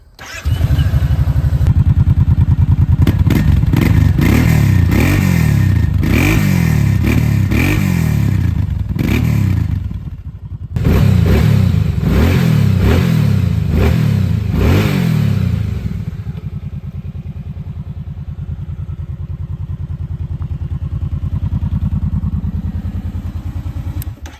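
A 2024 Kawasaki Brute Force 750 ATV engine cranks and catches, revving loudly in repeated surges, briefly dropping out, then settling into a steady, throaty idle.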